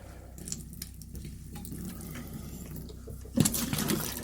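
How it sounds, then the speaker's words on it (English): Cold water runs from a faucet inside a fifth-wheel RV during winterizing, a steady close hiss and splash that surges louder near the end. "So now we'll run the cold water."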